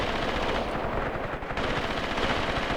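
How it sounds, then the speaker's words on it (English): Machine guns fire in the WWII strategy game Graviteam Tactics Mius Front, a loud continuous rattle of rapid shots with no pauses. "So let's continue to rip apart enemies with our machine guns."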